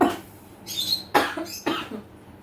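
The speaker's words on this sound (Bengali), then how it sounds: "কাশছো কেন আবার?" A person coughs three times in short, sharp bursts, close and fairly loud, in a hot room at home, with quiet pauses between each cough.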